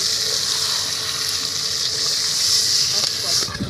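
Marinated chicken pieces sizzle loudly in a spiced pan for chicken kosha while a spatula turns them, under a constant bright frying hiss with faint scraping strokes, heard close up.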